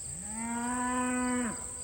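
Dexter cattle being moved toward the sun early in the morning give one long, loud, steady moo of well over a second that drops off sharply at the end, with a constant high whine behind it and no talk.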